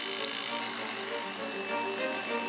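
Pasta dough being rolled through a motorized pasta roller at setting 6 and speed 6, a steady high-pitched mechanical whir running evenly throughout.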